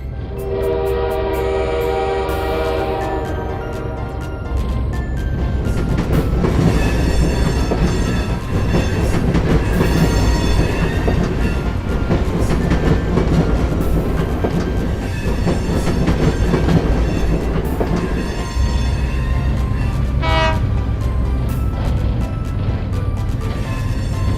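Trains in operation at a train factory: a continuous loud rumble of rolling wagons with repeated horn blasts sounding over it, steady throughout with no voices.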